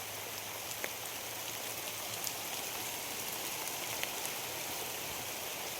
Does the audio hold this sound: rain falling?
yes